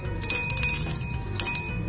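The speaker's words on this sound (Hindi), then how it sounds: "अगर तुम ये घंटी बजाओगे ना तब आता है स्टूवर्ड तब आता है तुम्हारा ऑर्डर लेने के लिए" A small hand bell is rung to summon a steward, giving two bright, ringing strikes with a shimmering decay. The rings are close and clear.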